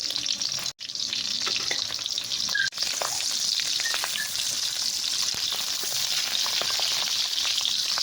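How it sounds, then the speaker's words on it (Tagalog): Smoked fish (tinapa) frying in a pan, a close, dense crackling sizzle with scattered pops throughout and two brief dropouts early on. "isinod ko na rin pirituhin yung tinapa."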